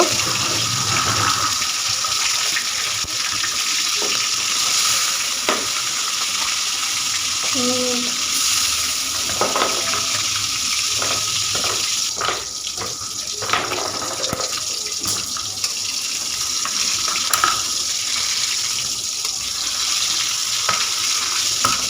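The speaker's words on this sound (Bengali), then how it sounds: "কড়াইতে দিয়ে মাছগুলোকে একটু একটু করে ভেজে নেব" Boal fish pieces rubbed with salt and turmeric fry in hot oil in a wok, giving a steady, dense sizzle that runs unbroken throughout with a few faint clinks and no voices.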